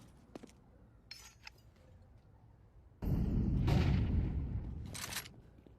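A flashbang grenade detonates in Counter-Strike during a competitive tournament match, a sudden loud burst with a sustained ringing wash that follows a stretch of faint background sounds.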